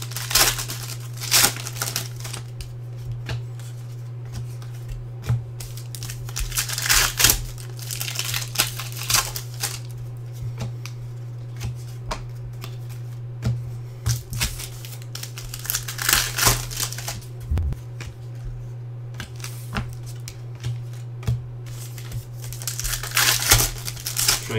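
Baseball card packs from a 2018 Elite Extra Edition half case being opened, their foil wrappers crinkling and tearing in a dense, continuous close-up rustle with a steady low hum underneath and no talk.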